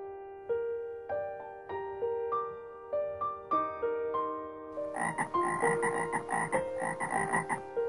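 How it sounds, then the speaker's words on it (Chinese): Frogs caught by a rural riverside croak in a run of evenly spaced, pitched calls, with a denser, louder chorus of overlapping croaks joining partway through. "阿坤赌气似的将捕捉来的青蛙全部杀掉做菜来吃"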